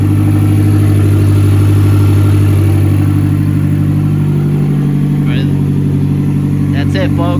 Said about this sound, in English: We got it running. Just gonna let it idle.